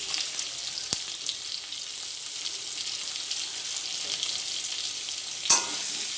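Potato and papaya pieces sizzle in a pan with turmeric, a steady close crackling fry broken by two sharp scrapes or clacks of a spatula stirring.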